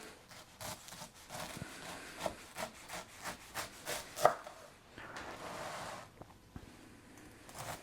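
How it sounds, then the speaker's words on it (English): A knife slices through Krispy Rice marshmallow squares on a cutting board, a quiet close run of rhythmic rubbing, crunching strokes with one sharper tap partway through. "So let's cut these up and see how many we get out of these."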